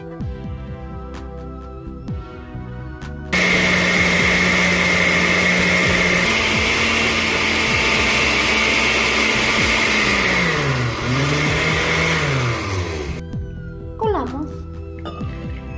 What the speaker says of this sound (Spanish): y volvemos a licuar.